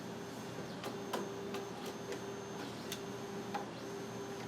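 A 3D printer printing a wrench aboard a space station runs with a steady low hum and faint whine, broken by a scattering of soft ticks and clicks at irregular intervals, with no talk.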